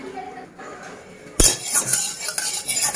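A utensil scrapes and clinks against a wok holding a little oil, with a sharp metallic knock followed by several shorter scrapes close by and no talk.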